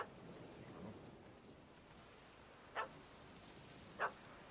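Two short, faint dog barks about a second apart over quiet ambience, in The Witcher 3: Wild Hunt.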